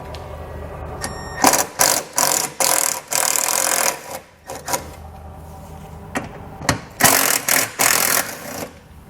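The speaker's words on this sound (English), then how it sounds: "We're going to grab a T30 Torx bit, and we'll pull all 4 of those out." A ratchet driving a T30 Torx bit to back out screws on a 2012 Fiat base plate install, loud close bursts of rapid clicking, about eight runs of ratcheting split by short pauses.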